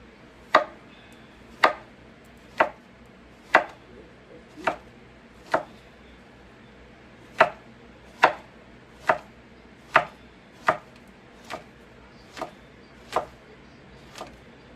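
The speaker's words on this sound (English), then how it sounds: "And we are going to cut this on like a bias. And I'm going to slice them kind of thin" A knife slices thinly on a bias against a cutting board, giving about fifteen crisp, sharp strikes at a steady, unhurried rhythm, close by with no talk.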